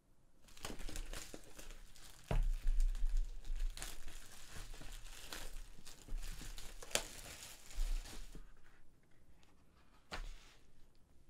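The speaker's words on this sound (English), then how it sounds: "take off this cellophane and see exactly what is inside the box" Cellophane wrap being peeled and torn off a Surface Pro 6 box, a steady crinkling and crackling with a few sharper rips, close and fairly loud, without talk.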